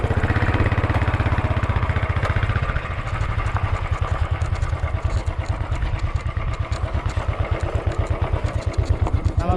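A Royal Enfield Himalayan motorcycle engine thumps steadily while off-roading on a rough road, its loud, close, rhythmic beat quickening toward the end with some clatter.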